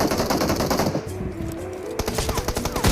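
Rapid automatic gunfire in the video game PUBG, loud bursts of repeated shots crackling across the whole clip with a brief lull in the middle before the firing resumes.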